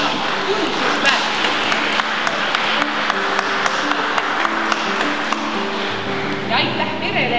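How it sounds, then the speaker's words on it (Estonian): An audience in a church setting breaks into sustained applause, clapping densely and continuously for several seconds while a voice speaks over it. "võime teha ühe suure aplausi, sest Ilmar on seda tunnustust väärt"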